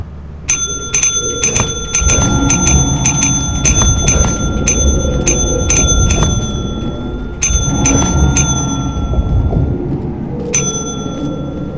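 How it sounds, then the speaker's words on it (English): A bell rings in the video game Lethal Company with bright, loud metallic strikes. They come in fast repeated bursts, pause, then return in a second cluster before a final ring. "Jesse, you wanna go ring the bell with me?"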